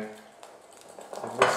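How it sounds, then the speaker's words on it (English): Eggs whisked in a bowl while baking a banana recipe: light metallic tapping and scraping of utensil against the bowl, faint at first and growing louder toward the end. "whisk it up."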